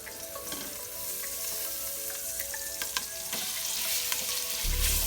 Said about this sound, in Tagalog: Now add the ground pork.